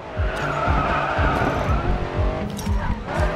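A Porsche Panamera in a racing video game slides through corners with quick handbrake taps, tires squealing and skidding over a droning engine, with a few rhythmic thumps, close and steady throughout.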